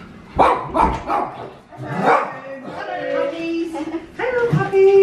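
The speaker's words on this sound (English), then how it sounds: "I saw a car before and Honeybee are barking and going crazy, so let's go check the door." Several dogs bark in sharp, excited bursts close by at a door, with yips and some voice mixed in among the barks.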